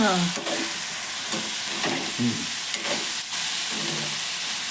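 Broad beans fry in a pan with a steady hiss and sizzle, while a utensil stirs and knocks against the pan in irregular bursts and a short squeak sounds at the start.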